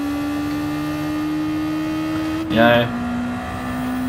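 Race car engine tone from the Gran Turismo racing video game hums steadily, then briefly surges in a short rev; a voice murmurs once over it.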